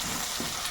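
New potatoes and spices fry in oil for a tangra fish curry, a dense steady sizzle up close with a soft stirring bump partway through.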